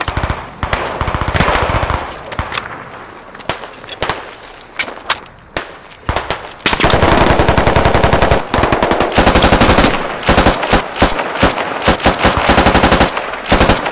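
Machine gun fire in the Squad video game, with close, loud rapid bursts. Scattered shots come first, then a long sustained stream of automatic fire with short pauses.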